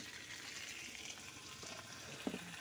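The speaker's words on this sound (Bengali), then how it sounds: "আর এখানে আলুটা ভেজে নিই।" Potatoes fry in oil with salt and turmeric, making a soft, steady sizzle throughout. There is a small clink near the end.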